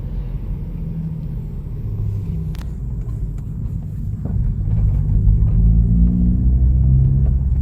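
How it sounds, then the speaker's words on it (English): A car with a muffler delete hums low and steady at cruising speed, a quiet rumble that swells slightly louder toward the end, with no talking. "the muffler delete, when you're just cruising, the car is still quiet"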